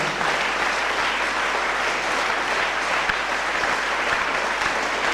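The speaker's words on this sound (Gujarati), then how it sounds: "કાર્યક્રમના અંતમાં એમને તાળીઓના ગડગડાટથી વધાવીએ." Sustained applause from an audience closing a Gujarati community programme, a dense, even clatter of many hands that holds steady and fills the room for the whole stretch.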